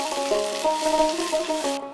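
Onion, ginger paste and garlic paste sauté in oil for a prawn and biuli dal curry, making a steady, moderate sizzle over a faint tonal hum that cuts off abruptly just before the end.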